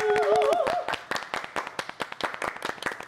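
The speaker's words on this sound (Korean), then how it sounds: "박수로 청해보겠습니다." Audience clapping welcomes a magician onstage at a live magic show, a dense burst of handclaps that thins into scattered individual claps, with a brief sung or spoken tone at the start.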